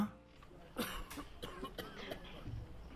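A man coughs several times in short, harsh bursts, close by, with some voice sounds in the background.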